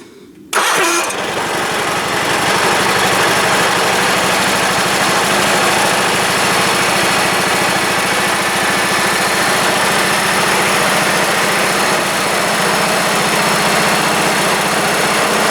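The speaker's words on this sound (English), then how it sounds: "start the tractor, roll it forward a few feet." A tractor engine fires up abruptly after a brief quiet moment, then settles into a loud, steady running drone that continues without a break, close to the microphone.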